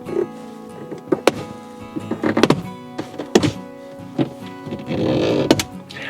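Interior trim panel pins on a Porsche Cayman/Boxster 981 pop free of their holes as the panel is pried with hooks, giving several close, dull thunks and sharper snaps amid plastic rustling and creaking.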